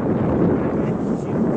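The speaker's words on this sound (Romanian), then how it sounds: "E mai bate vântul ăla." Cold wind blowing outdoors by the water while fishing, a steady loud low rumble buffeting the microphone throughout, with no clear talk.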